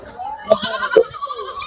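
A goat bleats nearby at a goat market in Habiganj, a short wavering cry, with other brief animal or child sounds around it.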